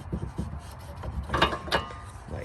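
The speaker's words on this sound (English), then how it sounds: "we can then carefully wiggle our caliper and brake pads off of the rear brake assembly" A rear brake caliper and pads on a 2016-or-newer Honda Civic are worked loose and slid off the bracket, giving quiet metallic scrapes, rubs and a few small clanks close up.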